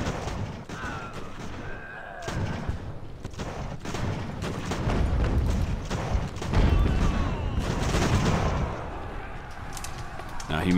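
Musket volley fire in the naval battle game Ultimate Admiral: Age of Sail, a rolling crackle of many overlapping shots and booms that continues under a voice.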